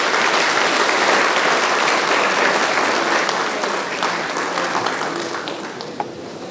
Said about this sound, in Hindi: तालियों से स्वागत।